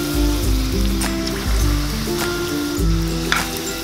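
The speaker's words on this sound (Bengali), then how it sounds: "মাখানো চিকেনগুলো তেলে ছেড়ে দেব।" Batter-coated chicken pieces for a Kolkata-style gondhoraj (kaffir lime) chicken fry sizzle steadily in hot oil over a low flame, a close, continuous crackle with bursts of louder spitting as each piece goes in.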